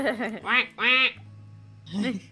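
Duck quacks from the Roblox game Sizzling Simulator, two loud quacks close together followed by a pause and one more, with a low steady hum beneath.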